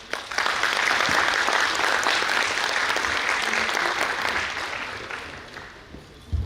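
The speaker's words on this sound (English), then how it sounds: "A big round of applause to Ms. Kaivya" An audience at a brand launch event in Bengaluru breaks into a dense round of clapping that swells quickly, holds for several seconds, then thins out and fades.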